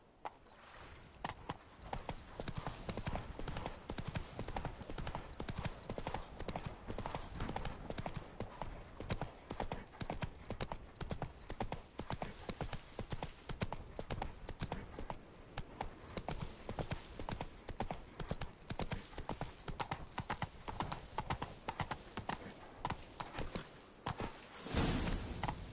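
Steady, continuous clip-clopping of Roach's hooves in The Witcher 3 runs for the whole stretch, a close, even rhythm with faint game ambience and an occasional snort.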